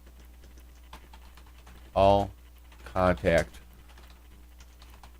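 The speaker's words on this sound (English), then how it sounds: "GoldMine wants you to type in delete" Soft clicks of typing on a computer keyboard in GoldMine software continue quietly in the background, with a short spoken word breaking in midway.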